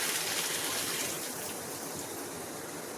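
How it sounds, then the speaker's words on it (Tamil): Water poured steadily into a cooking pot while making goat head curry, a soft continuous rushing trickle, fairly quiet and close, with no talking. "அதனால கொஞ்சமாக தண்ணி ஊற்றிக்கலாம்"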